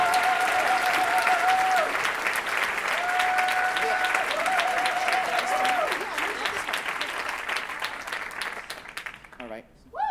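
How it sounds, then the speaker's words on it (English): Audience applause fills a theater hall at a broadcaster celebration event, loud and sustained for about ten seconds with a tonal whistle-like line running through part of it, tapering off near the end. "round of applause, Ivan Coyote."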